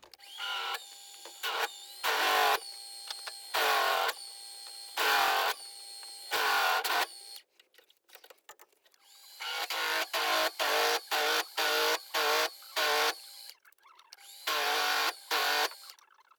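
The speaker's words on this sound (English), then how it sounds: "I bought a fancy countersinking head for the drill." A power drill with a countersinking head whines in repeated short bursts while countersinking holes, starting and stopping in an irregular rhythm, close and loud, with brief pauses between runs.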